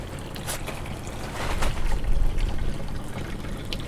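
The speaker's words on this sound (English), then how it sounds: "The whole gray water tank is leaking." Water spills and trickles steadily from a leaking gray water tank on a van, a broad, wet splashing wash that swells louder through the middle and then eases, with no voices.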